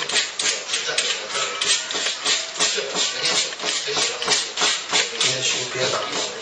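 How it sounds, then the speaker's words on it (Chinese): Sandpaper rubbed on a fruit-carved tiger, close rhythmic rasping strokes repeating rapidly and steadily, with faint talk underneath. "边修边打磨"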